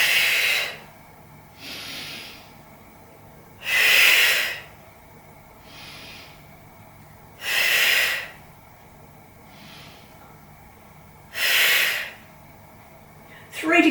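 Controlled breathing during an ab curls exercise, with slow, regular, audible inhales and louder forceful exhales alternating in a steady rhythm, close to the microphone.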